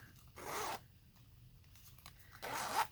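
Two quick zipper pulls on a small cosmetic bag with tassels on the zipper, each a short bright rasp close by, separated by a quiet pause with light handling rustle.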